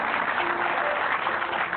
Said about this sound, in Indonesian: tepuk tangan yang luar biasa untuk pasangan Bapak Louis Tendian dan Ibu Ferawati Hartono